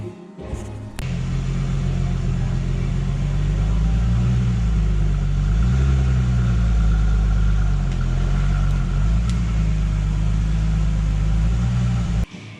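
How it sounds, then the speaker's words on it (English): A car's engine runs at a steady idle-to-low rev as it is driven up onto ramps for a budget track build, a loud continuous rumble close by with slight rises in pitch, starting and stopping abruptly. "So we're gonna get the car up on the ramps"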